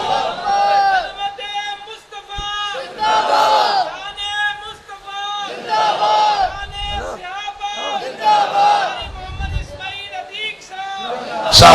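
A crowd at a religious sermon chants slogans in loud unison bursts, alternating with a preacher's amplified voice calling out between the repeated shouted responses.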